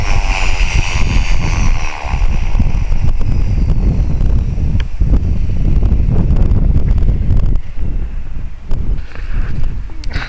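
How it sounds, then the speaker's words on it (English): Strong wind buffeting the microphone outdoors as an RC helicopter, a Hobby King 450 GT, comes in to land; loud continuous rushing gusts throughout. "The wind's just going to blow just as it's landing time."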